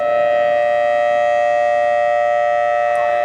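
A civil defense siren sounds the all-clear across Kuwait City, a loud, unbroken, steady wail that holds evenly throughout with no voices over it.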